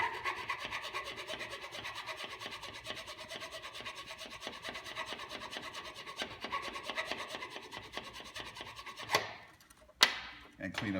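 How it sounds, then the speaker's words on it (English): A flat file rasps back and forth along the edges of a metal wheel-bearing spacer in steady continuous strokes, close and moderately loud, ending with a couple of sharper scrapes. "just take a flat file"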